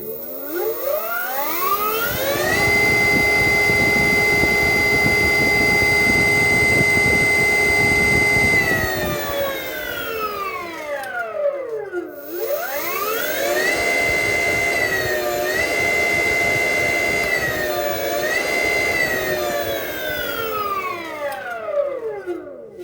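A 60V 2000-watt Datai BLDC motor runs in reverse. Its whine climbs to a steady pitch, holds, winds down, then spins up again with slight pitch wobbles, loud and close with no talk.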